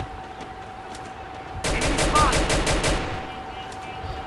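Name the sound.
sniper rifle gunfire in a video game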